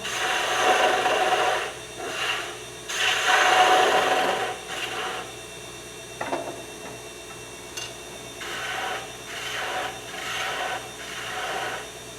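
Wood being cut on a lathe while turning a sea life ornament, giving a scraping, rasping hiss in several bursts of a few seconds each with short pauses between, close and steady, with no talk.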